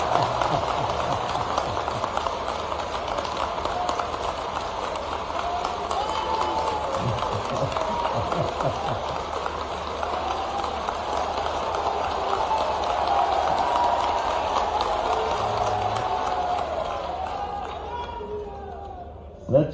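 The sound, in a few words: audience applauding at a public event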